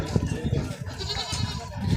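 Goats bleat amid the bustle of a crowded livestock market, short wavering calls mixed with steady background chatter from nearby traders and buyers.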